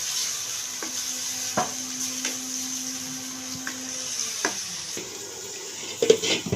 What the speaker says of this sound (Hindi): अब हम इस पॉइंट पे इसमें ये तकरीबन 1 कप पानी डाल देंगे और इस चिकन को जो है हम गलने के लिए रख देंगे।